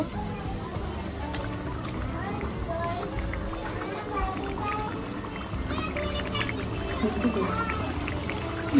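A chicken Mughlai paratha fries in lightly warmed oil over medium heat, giving a steady, dense sizzle that runs the whole time with a voice talking over it.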